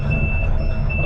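A somewhat worn-out machine's reversing alarm sounds in steady, loud, continuous beeps over a constant engine rumble outdoors, with no voices.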